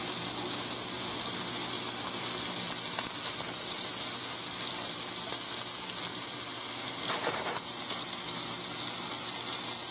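Rabbit pieces frying in olive oil in a full pan, a steady, close, crackling sizzle that holds evenly throughout with no talking.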